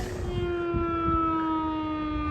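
A tornado warning siren in Pearisburg, Virginia sounds during a test, one steady, sustained wailing tone held loud and unbroken from a distance, with no other sounds over it.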